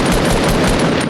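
A loud, rapid burst of automatic gunfire in the video game Fortnite, shots tumbling together into a continuous crackling barrage, close and dense with no pauses.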